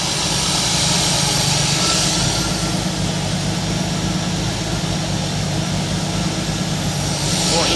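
A supercharged 2.9 litre Ford V6 fitted with an Eaton M90 blower and twin SU HIF6 carburettors runs loud and steady nearby, a constant engine roar with high whine that holds throughout.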